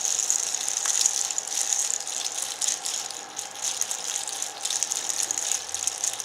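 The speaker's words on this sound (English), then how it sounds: "what you'll notice then is that as you're doing that, the capsules are falling into place." Gelatin capsules rattle continuously as a 100-capsule filler is shaken, making a dense, steady clatter like small plastic shells tumbling into their slots, with no talking.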